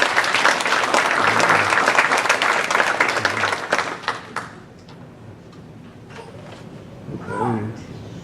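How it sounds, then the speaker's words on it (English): Audience applause at a March for Babies awards ceremony, a dense burst of clapping for the first four seconds that thins out into scattered claps and quieter room noise. "So let's just give a big applause to Gator Domino's."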